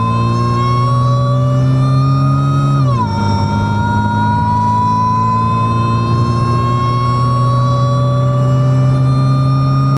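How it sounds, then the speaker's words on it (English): A Mazda 3 fitted with a loud intake whine mod, driving, gives a loud, steady, tonal whine. Its pitch drops sharply once, as at a gear change, then climbs slowly again. No one speaks. "test out the super loud intake version 2"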